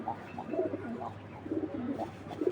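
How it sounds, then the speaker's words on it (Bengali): Pigeons from a breeder's loft cooing softly nearby, several low repeated coos in short phrases with brief pauses between them, quiet and without voices. "আমি 2টা কবুতর একটু ছেড়ে দেখাই আপনাদের বোঝার খাতিরে।"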